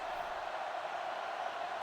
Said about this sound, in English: The Rollers show signs of life and the crowd roar